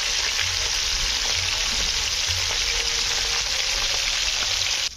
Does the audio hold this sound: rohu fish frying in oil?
yes